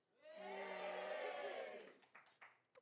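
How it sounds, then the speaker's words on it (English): A live audience at a bird fair cheers briefly, a broad swell of voices rising and fading over about two seconds, followed by a few scattered sounds. "Ladies and gentlemen, give me a cheer for ticks"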